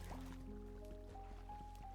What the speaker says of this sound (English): I then placed my water in the corners